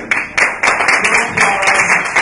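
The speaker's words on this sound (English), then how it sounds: "Please hold applause." A burst of clapping from a crowd at a candidate forum, with sharp irregular hand claps that keep going at a steady loud level.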